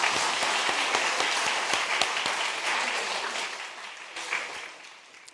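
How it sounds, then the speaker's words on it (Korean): Applause in a church service for well-behaved Sunday-school children, a dense, steady wash of many hands clapping at close range, sustained throughout and slowly tapering off near the end. "박수 한번 해줘"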